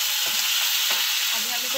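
Tomatoes, red chillies and garlic fry in oil over a low flame for momo chutney, giving a steady, loud, close sizzle with soft stirring scrapes and no voices.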